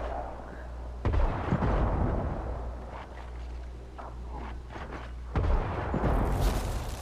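Secondary fire from a weapon in Warframe, heavy booming blasts with a loud burst near the start and another around five seconds, over a constant low game hum.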